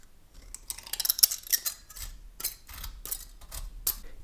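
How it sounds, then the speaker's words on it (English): Scissors snip out a rough curved propeller for a DIY rubber band plane. The cuts come as a close, quick series of sharp, crisp clicks. "I'm just going to cut out a rough curvature of the propeller"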